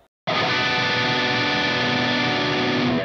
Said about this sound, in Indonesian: kalau gue bermain suatu chord dan gue mainnya itu dengan cara open strum